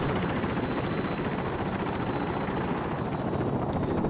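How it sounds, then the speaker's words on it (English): A helicopter lands in an open courtyard in Call of Duty Modern Warfare Remastered, its rotor wash a loud, steady, close roar that fills the whole stretch without letting up. "Helicopter lands in an open courtyard as the squad hops on."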